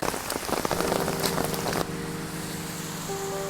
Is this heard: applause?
no